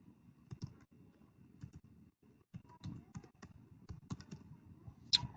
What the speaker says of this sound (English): type in your address there